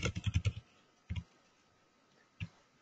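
Quick burst of typing on a computer keyboard, a rapid run of close, crisp key clicks followed by two isolated keystrokes after short pauses.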